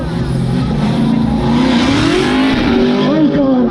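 A car at the Hoonigan SEMA show in Las Vegas spins donuts with no steering wheel fitted, its engine revving hard and tires squealing in a loud, continuous wail, while people shout and cheer over it.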